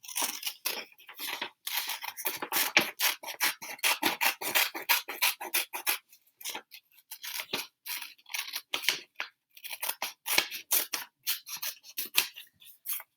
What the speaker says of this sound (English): I'm turning this paper while I make little cuts with my scissors